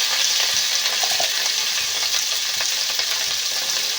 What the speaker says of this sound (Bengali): এই হলুদ গুঁড়ো আর লবণ দিয়ে ভেন্ডিটা একটু ভালো করে ভেজে নেব।